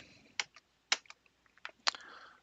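Computer keyboard typed on while entering a command in the MATLAB command window: a few sharp key clicks in brief irregular bursts with quiet gaps between, close and alone.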